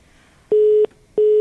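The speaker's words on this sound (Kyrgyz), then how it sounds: "Байланыш үзүлүп калды." After a radio phone-in caller's line drops, a steady telephone line tone beeps twice in long, evenly spaced pulses, loud and alone with no talk.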